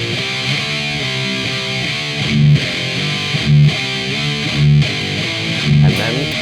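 A distorted electric guitar plays a riff round, a looping figure of sliding power chords with four louder accented low hits spaced about a second apart, close and alone with no talk.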